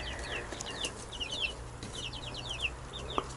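Young chicks peep and chirp in a run on a rural homestead, their high, rapid calls repeating in scattered bursts over a low outdoor rumble, with one brief knock near the end and no talking.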